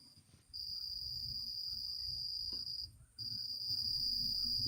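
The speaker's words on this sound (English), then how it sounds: "Oh, there's hella crickets." Cricket song recorded outdoors: a steady high-pitched trill runs almost continuously, breaking off briefly near the middle before resuming, over a low ambient rumble, with no talking.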